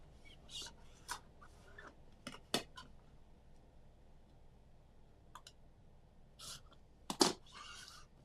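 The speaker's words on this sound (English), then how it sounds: "now I use my scissors, and I'm going to cut right up this side" A handful of sharp, brief snips from scissors cutting quilt fabric, scattered irregularly over a quiet background, with one louder cut near the end.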